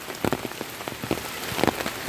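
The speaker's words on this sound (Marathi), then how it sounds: "पाऊस बारीक बारीक बारीक चालूच असा" Light rain patters steadily, with scattered drops tapping close by on a hard surface; no talking.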